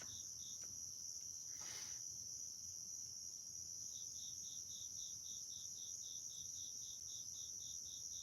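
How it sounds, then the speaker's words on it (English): A single loud cricket chirps at night in a steady, evenly spaced pulse, close and alone over a quiet background hiss, with a brief rustle early on. "There's one loud cricket right now."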